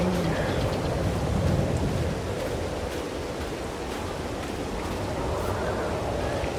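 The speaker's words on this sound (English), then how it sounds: "Ah, it's raining." Steady, dense rain hisses across a farm in Farming Simulator 22 on PS5, a constant broadband wash that stays loud and even throughout, with no voices.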